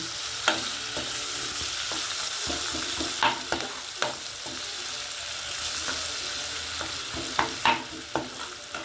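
Chopped onions frying in oil with cardamom and cloves for a bhetki fish curry, a steady close sizzle punctuated by frequent spatula stirring clacks and scrapes.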